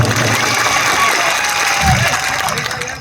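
Rally crowd at Kavant claps in a dense, steady patter of applause, close and loud throughout, with a few voices mixed in.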